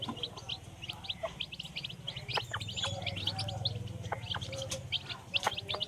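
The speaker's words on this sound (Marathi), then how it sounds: "आवाज बघा कसा खूप गोड येतो पिल्लांचा आवाज" A brood of country chicken chicks cheeps in quick, overlapping high peeps, close up and steady, with a soft low clucking from the mother hen underneath.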